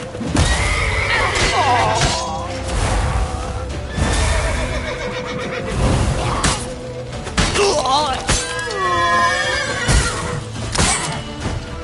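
A horse neighs loudly and repeatedly in The Witcher video game, its whinnies rising and falling over clip-clopping hooves, thuds and crashing noises, with a voice briefly heard.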